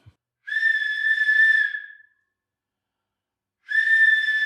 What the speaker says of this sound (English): I'll check how loud the whistle is from a few meters away.